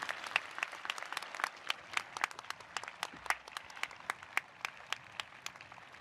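An audience applauds at the TCNJ School of Engineering Class of 2021 graduation ceremony: dense, steady clapping with many sharp individual claps that continue evenly for the full six seconds, no voices over it.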